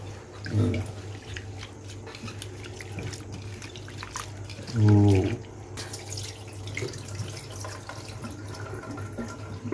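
Water splashing and sloshing as creek prawns are rinsed, with a couple of louder swishes and faint background noise, close by.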